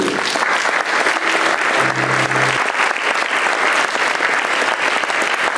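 Audience applause fills a concert hall as a men's choir from Cēsis walks onto the risers, steady dense clapping throughout with a brief low musical tone partway through.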